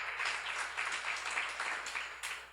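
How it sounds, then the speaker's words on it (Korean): Quiet, uneven clapping from a congregation at a church seminar, a short burst of scattered hand claps heard at some distance. "박수로 하세요"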